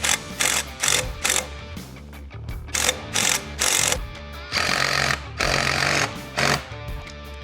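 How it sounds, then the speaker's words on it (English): Bolts on a Jeep JK skid plate install being tightened with an Allen key and socket ratchet, loud repeated bursts of clicking ratchet noise separated by short pauses, close to the microphone. "I'm just gonna tighten these guys up. It's gonna be a 7/32 Allen and a 9/16 socket."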